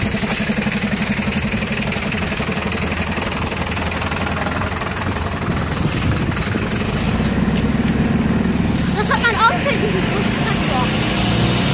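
A truck engine runs close by with a steady low rumble and slight knocking that grows a little louder partway through, while people talk over it.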